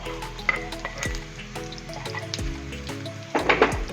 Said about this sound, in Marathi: आता आपण त्याच्यात बारीक चिरलेली मिरची घालणार आहोत